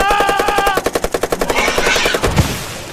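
Soldiers' machine gun fire rattles in a rapid, steady burst of sharp close shots that fades into a softer trailing rumble after about two seconds.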